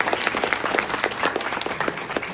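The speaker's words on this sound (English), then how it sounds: "Give yourselves a round of applause with that." Loud, dense applause from a youth audience at a leadership summit, many hands clapping at once in a continuous close wash with no voices over it.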